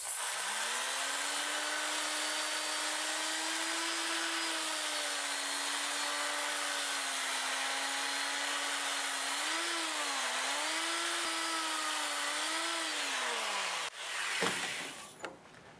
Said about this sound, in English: I'll sand this going forward, and we'll see how much settles on there.